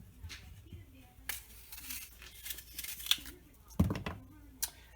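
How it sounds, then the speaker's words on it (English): Apples cut with a knife for homemade juice, soft scattered crunches and sharper knocks of the blade on a board at close range, separated by quiet gaps. "I am cutting up my apples"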